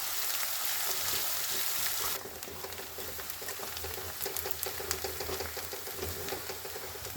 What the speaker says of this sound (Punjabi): ਹੁਣ ਆਪਾਂ ਪਿਆਜ਼ ਨੂੰ ਤੇ ਲਸਣ ਨੂੰ ਥੋੜਾ ਜਿਹਾ ਪਕਾਵਾਂਗੇ